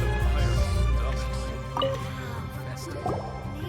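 Water being collected in the video game Genshin Impact, with close dripping, squishing liquid and filling sounds over game music and low background hum, with a few soft voice-like sounds.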